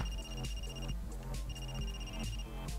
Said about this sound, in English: Oh, our cell phone works in the cave?